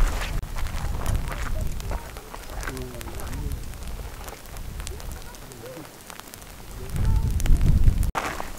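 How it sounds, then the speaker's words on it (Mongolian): Rain falls in the Gobi desert at Tsagaan Suvarga, a steady hissing patter with gusty swells and faint voices now and then. "Тэгсэн чинь бороо орчлоо."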